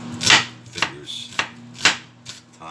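A knife chops a peeled onion coarsely on a board, five or six crisp, separate strikes spaced about half a second apart, close and fairly loud, with a low steady hum underneath.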